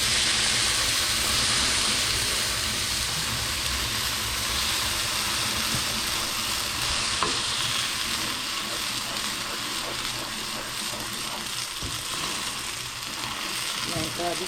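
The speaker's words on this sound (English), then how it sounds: "Now here I'm sauteing my season." A blended seasoning sautéing in olive oil in a pot gives off a steady, close, crackling sizzle that holds fairly even throughout, with faint stirring scrapes and no talking.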